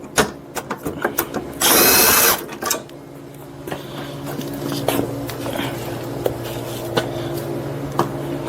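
A power drill runs in one loud, steady burst of about a second while removing 10mm bolts from a 2011-2015 Lincoln MKX fender. Scattered clicks and taps of the work come before and after it, and no one speaks.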